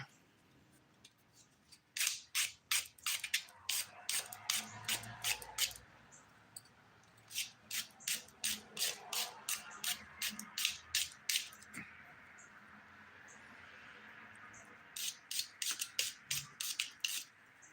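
Nail file smoothing the edges of a fingernail, bursts of quick scratchy strokes in several runs separated by pauses, close and fairly quiet.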